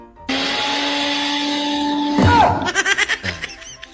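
A kitchen blender runs at home as a steady, loud motor whine lasting about two seconds, then cuts out abruptly, followed by voices and laughter.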